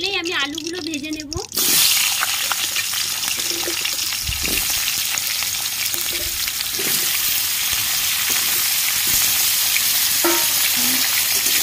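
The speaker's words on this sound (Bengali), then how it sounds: "এই তেলেই আমি আলুগুলো ভেজে নেব।" Potatoes fry in hot oil in a wok, giving a loud, continuous sizzle with occasional stirring clinks and splashes; a voice speaks briefly at the start.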